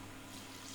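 Water pours steadily into a soup pot holding seared cabbage, a continuous close, full rushing splash with a low hum beneath.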